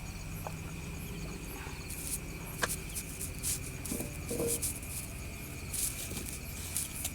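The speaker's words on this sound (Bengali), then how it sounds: "বাইরে দেখো পুরো ঝিঝি ঝিঝি ঝিঝি পোকা ঢাকছে" Crickets chirp outside at night with faint, steady, high trills and scattered clicks, heard from a distance behind a low background hum, with no talking.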